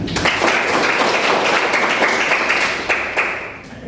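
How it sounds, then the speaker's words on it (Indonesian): Students in a classroom clap together after a lesson, a loud, close burst of dense applause lasting a few seconds before tapering off. "Tepuk tangan."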